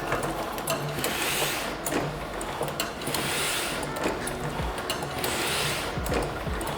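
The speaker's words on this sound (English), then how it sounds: "when I turn this on, the rollers will rotate and the ink will spread out" Printing press at a print shop running its ink rollers, a continuous mechanical whir with rhythmic rolling swells and faint clicks repeating about every two seconds, close and steady with no voices.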